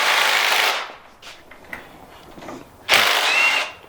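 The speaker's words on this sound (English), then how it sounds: "Power tools." A power tool loosens a bolt during power steering pump work on a Mk3, whirring loudly in two short bursts, close by, with a quiet pause of faint clicks and rattles between them.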